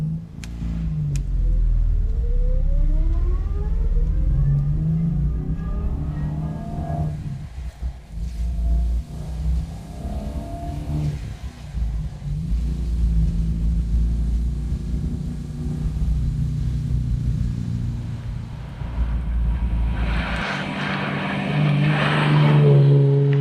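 A Lancia Aurelia B20 six-cylinder engine runs and revs loud and close, its deep rumble rising and falling through gear changes and swelling again near the end.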